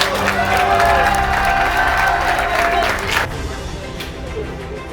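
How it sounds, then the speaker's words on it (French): Spectators at a street lifting competition clap and cheer for a placed athlete, a full burst of applause that thins and softens toward the end. "Un tonnerre d'applaudissements pour Yanis et ses 3."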